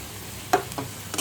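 Sugar is stirred into bottle gourd and carrot halwa in a pan, giving soft scraping strokes of a spoon, three or four quick sweeps close by with a faint sizzle beneath, no talk.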